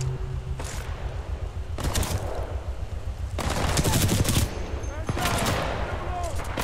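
Gunfire from Titanfall 2 comes in loud, rapid automatic bursts with heavy recoil, several separate strings of shots with short gaps between them, while a player talks over the shooting.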